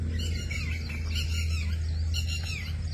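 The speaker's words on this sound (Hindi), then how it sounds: "परिंदों की आवाज़ें सुने जी" Several small birds chirp and tweet in quick overlapping calls among garden trees, steady and fairly close, over a constant low hum with no talking.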